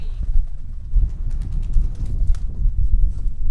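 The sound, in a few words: pigeons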